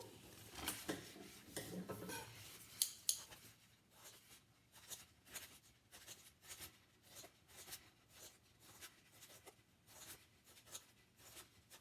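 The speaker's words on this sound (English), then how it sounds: "So I'm drawing some very rough triangles which I'm going to cut out with my scissors next." Scissors snipping rough triangles out of paper for a homemade Easter bonnet, a steady run of short crisp cuts after some initial rustling and handling noise, close and moderately quiet with no talking.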